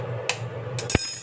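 Eggs cracked into a bowl for a butter garlic egg breakfast: two or three sharp, brief taps and clicks of shell, close and fairly quiet, with no talking.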